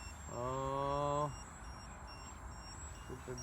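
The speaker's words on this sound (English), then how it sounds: "My battery buzzer is going off all the time." A single sustained electronic buzzer tone from a model airplane's battery alarm sounds for about a second, fairly loud, then cuts off, leaving quiet outdoor background.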